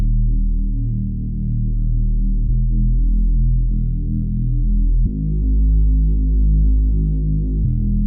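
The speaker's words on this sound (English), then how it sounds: "I took the cutoff all the way to the bottom just to make it sound deeper. I wanted that deep bass." Deep synth bass patch built in Alchemy with its filter cutoff pulled all the way down, played alone as low sustained throbbing notes that change pitch every few seconds, dark and humming with no other instruments.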